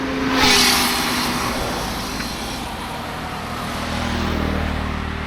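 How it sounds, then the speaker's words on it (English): Cars and trucks pass on a busy road climbing a hill under a tree canopy, a loud, continuous engine rumble and tyre roar that swells near the start and again toward the end. "vehicles are going up"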